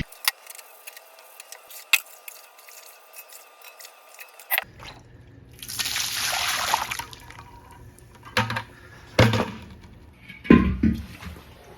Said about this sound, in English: I'm gonna keep washing it until the water starts coming off clear.